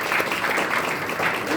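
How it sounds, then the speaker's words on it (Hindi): Audience applause at an academic history seminar in India, a short steady burst of many hands clapping in a hall, moderately loud and even throughout. "मैं चाहूँगा ताली बजाएं आप"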